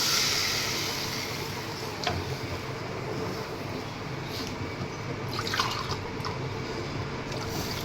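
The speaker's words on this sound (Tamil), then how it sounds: "ஒன்றேகால் கப்பு தண்ணி விட்டுருக்கேன்" Water, about one and a quarter cups, pours steadily into a pan for making aval (flattened rice) kozhukattai, with a continuous splashing rush, joined by a few faint drips and clinks, no talking.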